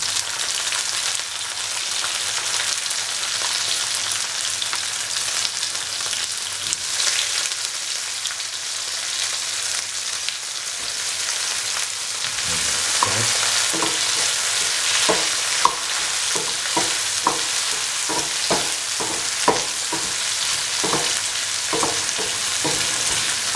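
Tomatoes fry in a pot of mutton coconut milk stew, starting as a broad steady sizzle, then a run of clattering spoon strokes against the pot joins in over the second half, close and with no voices.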